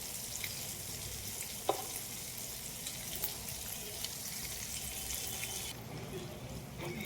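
Chicken fries in a pan for mandi, giving a continuous close sizzle with occasional sharp pops and light clinks, steady throughout with no talking.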